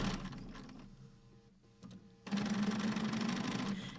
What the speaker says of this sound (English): I'm just sewing things together.